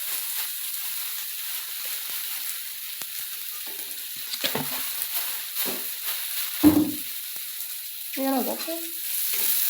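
Food fries in a pan with turmeric powder and salt and is stirred now and then, producing a soft steady sizzle broken by scraping stirs and clinks, with a brief murmured word.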